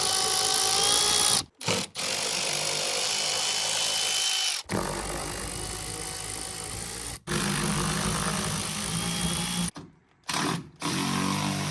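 A power tool drives out T25 Torx screws from the underbody tray of a VW Taos, whirring in long continuous runs with several brief pauses between screws, loud and close.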